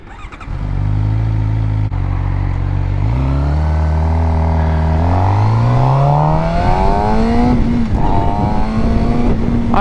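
A Suzuki GSX-R 600 sport bike revs up through several gears, its loud, close engine note climbing and dropping with each shift before settling into a steady high whine.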